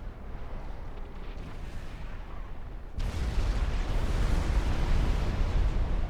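Heavy artillery barrages in the Supreme Commander 2 strategy game, a dense continuous rumble of booming shots that swells sharply louder halfway through and stays loud, with no talking.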